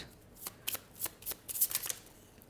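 Tarot cards are shuffled close by, making soft riffling flutters and light slaps in quick irregular bursts, quiet and without voices.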